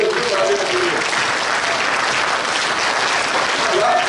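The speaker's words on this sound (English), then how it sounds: "clap your hands with me" A congregation claps hands together in a loud, dense, continuous burst, with a voice rising over the clapping at the start and end.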